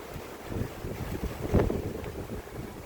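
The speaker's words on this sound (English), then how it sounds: "a bit breezy as you can probably hear" A gusty outdoor breeze on a hot day buffets the microphone with low rumbling noise that swells and fades, a stronger gust near the middle; no one speaks.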